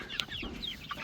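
A farmyard chicken near a pigpen gives a few short, soft clucks up close, brief and slightly uneven against a quiet background.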